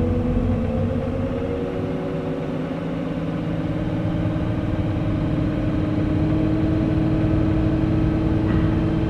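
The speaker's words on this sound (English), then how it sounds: "So I'll just rev the tractor up." A tractor engine runs steadily with its PTO engaged at about 620 to 640 rpm, gradually revving higher, a continuous low rumble with rising pitch and no talking.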